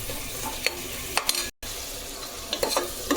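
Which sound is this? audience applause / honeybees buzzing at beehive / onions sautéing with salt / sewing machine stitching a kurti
onions sautéing with salt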